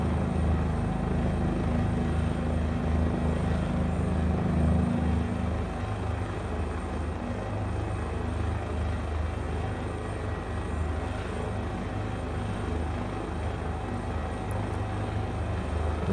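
Steady, loud rotor and turbine drone of a helicopter in a VR flight simulator, flying a circuit near a runway; an unbroken low hum with no talk heard.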